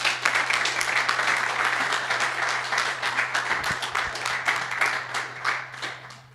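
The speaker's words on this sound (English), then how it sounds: "Can we have a big round of applause for Miro?" Conference audience clapping fills the room with steady, dense applause and clearly separate hand claps, continuing evenly for several seconds before tapering off toward the end.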